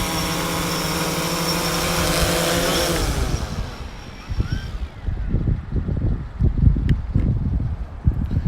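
Strong wind buffets a Phantom 3 Standard drone during a range test, a steady loud broadband roar that drops after a few seconds into gusty, uneven rumbling bursts close to the microphone.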